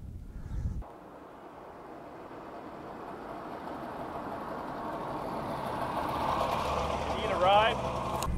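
A 1964 DKW Junior Deluxe saloon with a two-stroke engine runs steadily from inside the cabin, its buzzing drone building slightly after a brief louder start, with a faint higher whine near the end.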